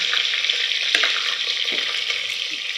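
Onions fry in hot oil with dried red chillies in a cooker pot for beetroot biryani, a bright, continuous sizzle close by with an occasional faint scrape of stirring and no talk.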